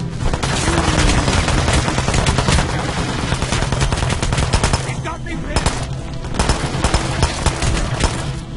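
Sustained gunfire from the stealth action game Hitman Absolution, with dense automatic bursts rattling loudly and almost without pause throughout.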